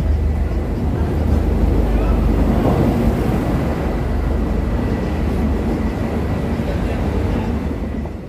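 A train at Belonia railway station on the Sabroom–Agartala line on a rainy day gives a loud, steady, close rumble and roar that fills the whole stretch and eases slightly at the end.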